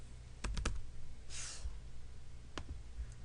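Computer keyboard keys typed in a quick burst of a few clicks, then a single later keystroke, close and fairly quiet while a command is entered in geometry software, with no talk over it.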